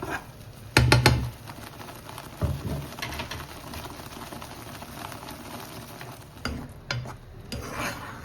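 Ground spice paste for bendekai majjige huli frying in a pan, with steady soft sizzling and stirring, punctuated by a few louder scraping clatters of the spoon against the pan.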